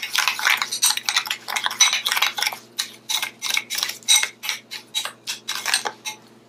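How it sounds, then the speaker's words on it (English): Facial mask being stirred into brown sugar in a small bowl, a quick run of close, crisp scraping clicks in a steady rhythm that slows and thins out toward the end. "We're gonna mix this in the brown sugar."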